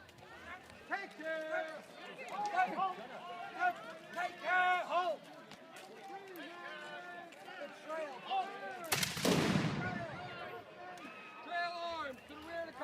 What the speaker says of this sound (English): The colonials had a cannon, and its blast rattled windows and eardrums